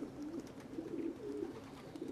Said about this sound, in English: Grab the pigeon.